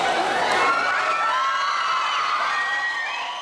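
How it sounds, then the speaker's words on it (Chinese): Fans greet a visiting Korean idol arriving at Taoyuan Airport with a dense, high-pitched wall of screaming and cheering that holds steady, loud and close, for several seconds before cutting off. "一见到偶像出现， 粉丝尖叫声四起"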